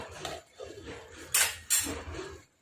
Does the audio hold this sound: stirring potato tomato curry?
yes